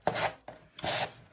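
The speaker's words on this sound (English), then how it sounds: "This is a nice sanding block." A cheap single-grit Dollar Tree sanding block scrapes across wood in three short, close, rasping strokes with brief pauses between them.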